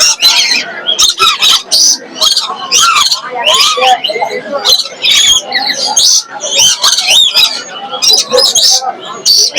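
Dense, overlapping chirps and squawks from many caged birds at the Mirpur 1 bird market, loud and continuous, with people talking among the calls.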